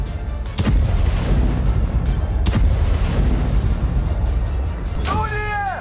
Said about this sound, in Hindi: अवदीपा में भी रूसी सेना की तोपों ने यूक्रेन की चौकियों पर बारूद बरसाए।